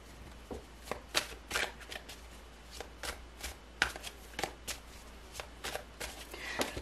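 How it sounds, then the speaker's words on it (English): Tarot cards are shuffled close by, their soft riffling slaps coming in irregular bursts against a quiet background. "they started to shuffle and that fell out"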